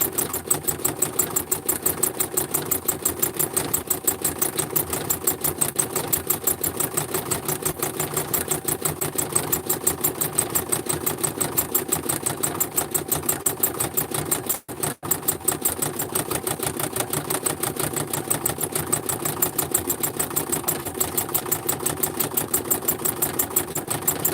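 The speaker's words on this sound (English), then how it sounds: "This sewing machine has 10 million stitches on it." A sewing machine stitches steadily at high speed, a rapid, even mechanical clatter that runs on continuously with one brief pause midway.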